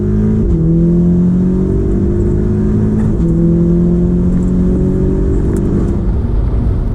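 A tuned 400 bhp Audi S3 with a DSG gearbox accelerates hard, its engine note climbing steadily through the gears with a brief dip at a shift, loud and continuous from close inside the car.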